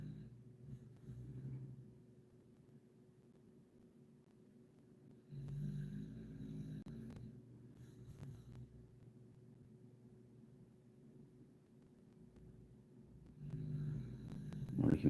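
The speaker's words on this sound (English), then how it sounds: "Now the dog's snoring." A sleeping dog snores indoors in slow, rumbling low breaths, a few louder snorts standing out near the start and again at the end over a steady background hum.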